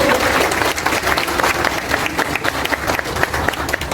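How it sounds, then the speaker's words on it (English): Loud, sustained clapping from a crowd at a school annual prize distribution ceremony, dense and continuous for several seconds without speech. "Can we have a loud applause for this?"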